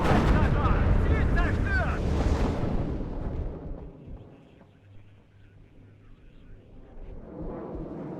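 Gepard anti-aircraft gun firing in a WARNO battle: loud, dense rapid autocannon bursts with booming impacts for the first few seconds, fading into distant rumbling battle noise and wind, with faint in-game voice chatter.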